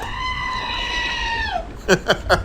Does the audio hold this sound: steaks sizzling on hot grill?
no